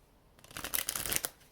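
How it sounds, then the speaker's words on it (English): Oracle cards being shuffled close by, a soft riffling flutter that builds quickly and lasts about a second, with no talking. "I'm going to go ahead and get you a couple of these Oracle cards."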